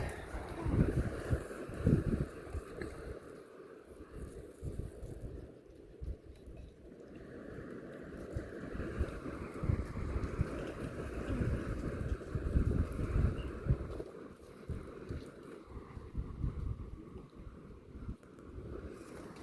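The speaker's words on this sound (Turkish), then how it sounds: "Bugün de bayağı bir rüzgar var." Steady gusting wind buffets the microphone, a rough low rumble that rises and falls continuously with no voices.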